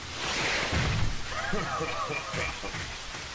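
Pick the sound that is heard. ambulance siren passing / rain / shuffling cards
rain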